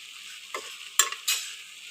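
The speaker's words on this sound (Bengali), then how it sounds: "এবং মাঝে মধ্যে আমি মিষ্টি কুমড়াটা উল্টিয়ে দিব" Sweet pumpkin frying in a pan over low flame is stirred and turned with a spatula in three short scraping strokes over a soft background sizzle.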